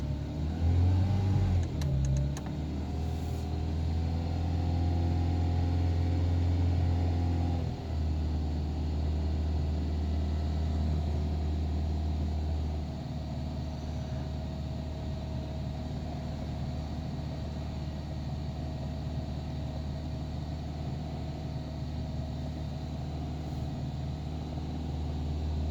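A 1989 Renault Super 5 GTR running on 100% ethanol, cold-started at -5 degrees: the engine catches with a sputter, then idles low and rumbling at close range, settling slightly quieter after a few seconds with a steady drone.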